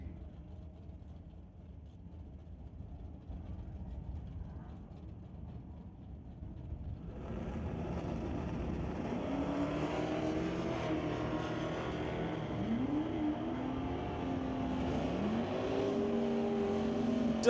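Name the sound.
drag race: 1968 Firebird racing a 1985 S10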